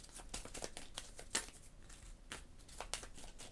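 A deck of Marvel Champions game cards is shuffled by hand, giving quiet, intermittent riffling and card-slapping crackles with short pauses between passes, close but faint.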